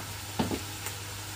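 Onions fry with spices in a pan, giving a steady close sizzle broken by a couple of quick stirring scrapes.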